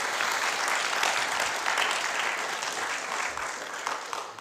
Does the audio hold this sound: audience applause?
yes